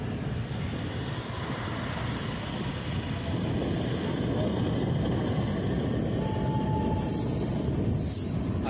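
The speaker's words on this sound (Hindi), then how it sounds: "वो देखिए उधर से ट्रेन जा रही है।" A train crossing the Daliganj bridge in Lucknow, a steady rumbling roar of wheels on rails that holds throughout, with a faint high squeal partway through.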